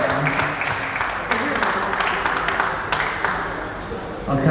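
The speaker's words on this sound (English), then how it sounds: "Let's give these guys a round of applause" A crowd at a fight press conference applauds in a dense, steady wash of clapping mixed with cheering and chatter, fairly loud and sustained throughout.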